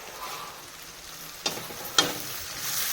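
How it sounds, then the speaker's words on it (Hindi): Food frying in a pan: a soft, steady sizzling hiss broken by two sharp metallic clinks, like a utensil striking the pan, near the middle. "बिन फ्राई कर रहा हूँ"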